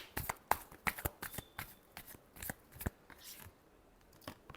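Tarot cards being shuffled in a deck, a run of quick crisp riffling bursts and soft slaps at close range, irregular in rhythm, with no talking.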